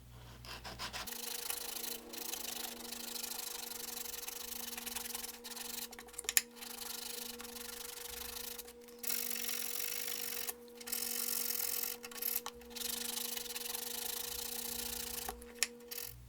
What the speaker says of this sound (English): switch over to some 120 grit sandpaper and just finish the remaining by hand